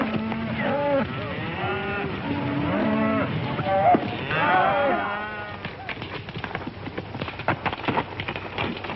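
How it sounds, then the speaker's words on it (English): Cattle moo repeatedly in a ranch scene from the John Wayne western film Hell Town, long low calls overlapping one another at mid distance, with other sounds and some background noise mixed in. "It's a fine-looking herd of cattle."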